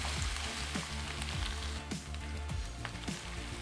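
Ginger garlic paste sautéing with fried onions for a pumpkin kofta gravy, a steady close sizzle with soft scraping stirs throughout.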